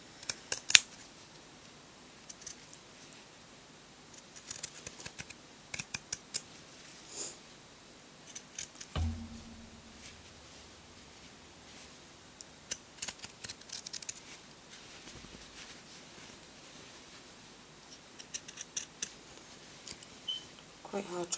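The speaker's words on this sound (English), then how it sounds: "I find it easier and quicker with the pinking shears to just cut around and cut reasonably close to my stitching" Pinking shears cutting fabric close around the stitching of a baby feeding bib, repeated crisp metallic snips in short bursts with pauses, close and fairly quiet.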